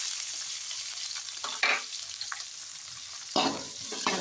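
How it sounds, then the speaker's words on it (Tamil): Green chillies and onions frying in oil for egg fried rice, a steady hiss with bursts of sizzle and scraping as they are stirred in the pan, with no talking. "இப்போது வெட்டி வச்ச பச்சை மிளகாய் அடுத்து வெங்காயமும் சேர்த்துக்கோங்க"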